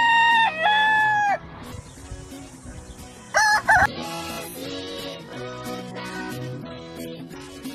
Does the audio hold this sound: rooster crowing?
yes